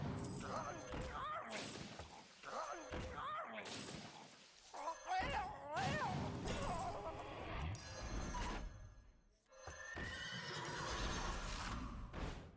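A horse whinnies several times amid crashing, clattering game effects, with bursts of noise and brief pauses throughout.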